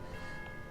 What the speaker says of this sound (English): That's the sound of a bell.